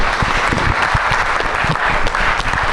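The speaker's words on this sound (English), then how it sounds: "Big round of applause to our panelists." A conference audience at a real estate meetup claps for the panelists, a loud, dense burst of many hands applauding steadily throughout.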